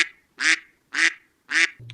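Three loud duck quacks as a comic sound effect, evenly spaced about half a second apart, each a short nasal burst with silence between, then a brief low thud right at the end.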